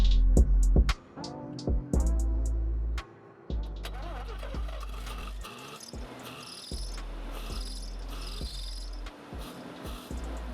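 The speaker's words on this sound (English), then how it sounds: "I finally have a running RX-7 again" A 1984 Mazda RX-7 rotary engine is cranked and fires, with loud stuttering bursts, brief stalls and restarts before settling into a rough, uneven idle close by, with no talk.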